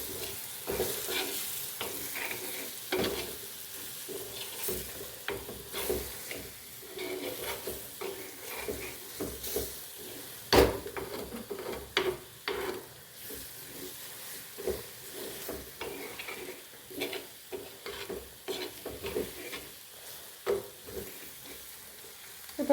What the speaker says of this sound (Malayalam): ഇത്ര ഐറ്റംസ് ഇതിലേക്ക് നമുക്ക് ഇട്ട് കൊടുത്ത് ഒന്ന് മൂപ്പിച്ചെടുക്കാം